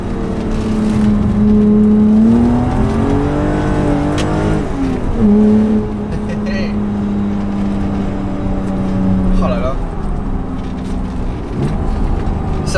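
A BMW M5 E28 saloon with the M1-derived engine pulls under way, a loud, close sustained drone whose pitch rises and falls as the car accelerates and eases off, with a brief dip before climbing again near the end.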